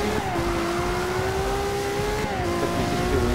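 A race car's engine drones steadily in the video game Forza 6, holding a sustained tone with small pitch shifts as it powers along a lap, with no voices.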